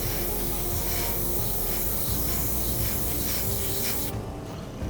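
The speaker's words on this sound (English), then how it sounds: "Now we're going to use the airbrush. This is a quicker way to achieve what we want." An airbrush sprays color onto a sugar flower cake decoration, giving a steady, close hiss that runs without a break for about four seconds and then cuts off, with no talking.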